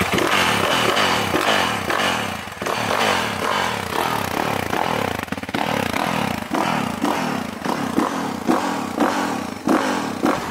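A motorcycle engine runs in a Le Havre street, loud and close with rough, pulsing revs and some clattering, continuous throughout with no one talking.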